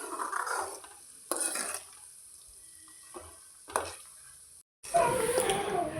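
Herbs frying in heating oil for homemade hair oil, short bursts of sizzling and stirring clatter separated by quieter gaps, ending in a louder stretch of frying.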